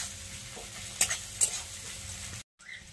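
Onions frying lightly in a pan for a goat head curry, a soft close sizzle with a couple of sharp stirring clinks, then a brief cut to silence.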